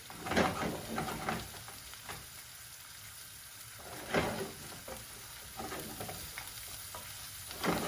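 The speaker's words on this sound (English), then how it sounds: "cook this until the mustard seeds themselves start popping slightly" Mustard seeds and spices sizzle in a hot pan, a steady close fry with crackles and occasional louder pops and stirring scrapes, no voices.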